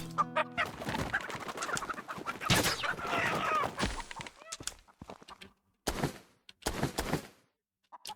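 Chickens in the medieval survival MMORPG Reign of Guilds cluck and squawk in busy, uneven bursts, close and fairly loud, with short pauses of near silence between later calls.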